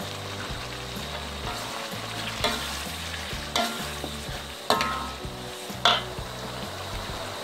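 Half-cooked chilies simmer and fry with beef broth and tamarind water for dendeng lambok, a rhythmic stirring scrape repeating over a constant sizzle, with a few sharp clanks of a utensil on the pan.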